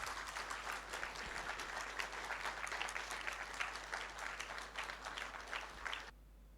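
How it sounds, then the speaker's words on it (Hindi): An audience at a professional gathering gives loud, sustained applause, a dense crowd clapping for about six seconds that stops abruptly, leaving a steady low electrical hum underneath. "जोरदार तालियां।"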